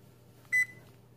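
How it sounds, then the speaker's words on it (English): A kitchen timer is set while baking bacon-wrapped asparagus, giving one short, high electronic beep close by over faint room hum. "Let's set our timer."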